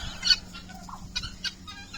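Chickens on a poultry farm with New Hampshire Reds, egg layers and white rock show birds, giving scattered clucks and brief calls over a low steady background, fairly faint.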